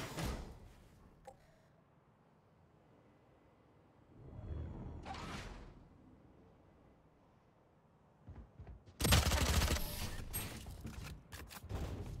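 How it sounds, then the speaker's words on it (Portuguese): Gunfire in the Valorant video game: scattered clicks and a brief swell early on, then dense, loud, rapid bursts of shots crowd the last few seconds. "acho que eu nunca ouvi tanto tiro em um lugarzinho só"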